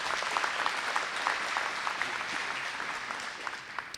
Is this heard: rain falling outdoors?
no